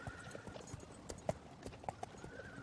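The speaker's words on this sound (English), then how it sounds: "This was my mother's horse." Horse hooves clip-clop faintly at a distance at a sale, with a few scattered hoof strikes over a low background.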